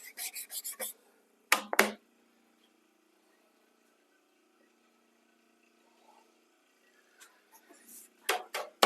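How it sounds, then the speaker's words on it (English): A card scraper drawn across a wooden guitar neck blank in a workshop, heard as two short bursts of raspy scraping strokes near the start and a cluster near the end, separated by a long quiet pause. "I'm going to finish scraping that up and get it ready to go in the neck jig"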